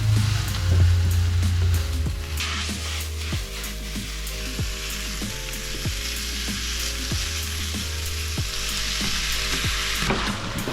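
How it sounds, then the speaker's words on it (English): Mince, onions, carrots and garlic fry together in a pan, giving a steady close sizzle broken by regular scraping stirs, with no voices. "we're gonna cook the mince, the onions, the carrots, the garlic all together"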